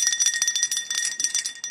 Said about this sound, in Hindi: ये छोटी घंटी की आवाज।